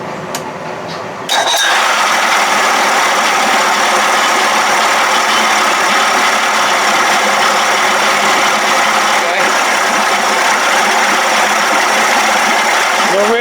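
A 1979 Evinrude 55 hp outboard motor runs steadily after a sudden start, a loud continuous buzzing drone with slight fluctuations as the timing is slowed, close to the listener.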